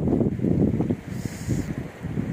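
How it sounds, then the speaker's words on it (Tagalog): Strong wind at sea buffets the microphone in a steady, loud low rumble that surges and dips for a couple of seconds, with no one speaking. "Sobrang lakas ng hangin."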